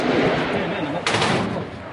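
Gunfire in the streets of Tunis, with a loud, near crack midway through a dense, rumbling stretch of noise that blends with voices.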